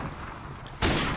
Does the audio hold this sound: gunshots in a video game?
yes